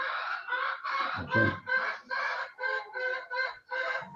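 Chickens cluck in a quick, rhythmic run of loud, close calls, with a brief voice and a low thump partway through.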